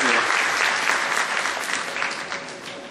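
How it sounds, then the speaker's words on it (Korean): Audience applause greets an app developer called to the stage at a Korean Windows 8 tech presentation, a dense, steady wash of many hands clapping at close range, sustained throughout. "큰 박수 부탁드리겠습니다."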